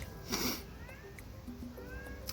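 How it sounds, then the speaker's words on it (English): A house cat meowing indoors, a few short, faint meows and small chirping calls close by, with no one talking over them. "Sorry, you hear my cat."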